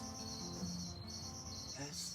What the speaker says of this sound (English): such a joy to hear the crickets singing